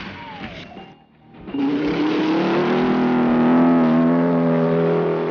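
Dune buggy engine droning steadily as it drives on sand dunes, the sound rising after a brief dip and then holding a loud, continuous revving tone.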